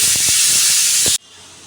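Cumin seeds hit hot oil in a pan with a loud, bright sizzling hiss and a few pops, close up, then the sizzle cuts out abruptly to near quiet.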